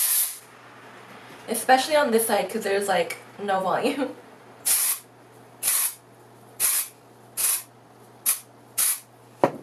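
Hair spray misted through wavy hair in a series of short, broadband hissing bursts, about eight in a row, fairly close; someone speaks over the first sprays, then the bursts continue alone in a steady rhythm.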